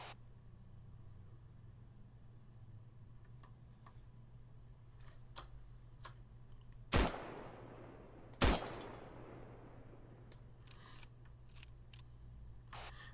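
Two sharp, loud sniper rifle shots ring out in a video game about a second and a half apart, each leaving a quick decaying tail, with faint clicks and ticks in a quiet background.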